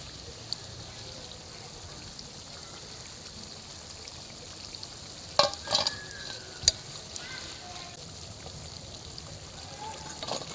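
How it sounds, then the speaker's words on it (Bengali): Cauliflower pakoras deep-fry in oil with a soft, continuous bubbling sizzle. A few sharp clinks and scrapes stand out near the middle as the fritters are moved and lifted. "আমি আর একটুখানি ভেজে নিচ্ছি। পকোড়াগুলো কিন্তু আমার ভেজে নেওয়া হয়ে গেছে।"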